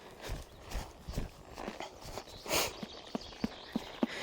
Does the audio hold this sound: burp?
no